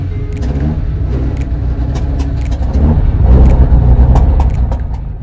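A classic Marcos race car rolls slowly down the pit lane at Snetterton with its engine burbling low and steady. The note rises a little toward the end, with light clicks and knocks over the top.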